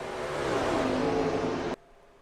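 Sim race cars in iRacing running three wide at Pocono, engines droning loud and close in a dense pack before cutting off abruptly near the end.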